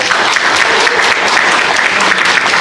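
Loud, steady applause fills the hall at a union's anniversary fundraising night, a dense wash of many hands clapping throughout without pause.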